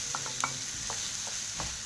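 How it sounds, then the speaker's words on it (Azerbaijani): Minced meat frying with onions in oil in a pan gives a steady close sizzle, with a few soft stirring scrapes and no talking. "İndi farşı bura əlavə edirəm."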